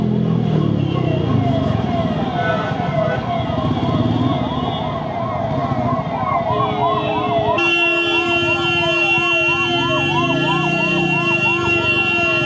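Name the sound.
ambulance siren passing in traffic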